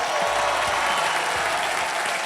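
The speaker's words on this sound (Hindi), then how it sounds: "जोरदार तालियां।" A television game show studio audience breaks into loud, continuous applause, dense and steady throughout.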